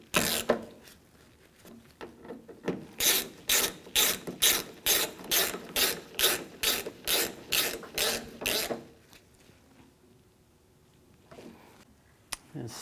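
A ratchet snugs up bolts on the front door latch of a 2007–2014 GMC Sierra 3500, rapid clicking strokes repeating in a steady run of about a dozen pulls, close and crisp, then stopping into quiet handling noises.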